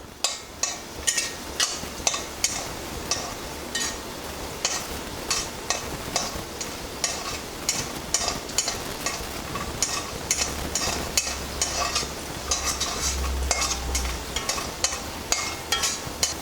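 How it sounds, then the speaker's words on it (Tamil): Lumps of asafoetida fry in hot oil while being stirred, a steady close sizzle broken by frequent sharp scraping clicks of the spoon against the pan, continuous throughout with no talking. "இப்போ பாருங்களேன், நல்லா அது ப்ரௌனாக கொஞ்சம் நல்லா உப்பி வரும் பெருங்காயம்"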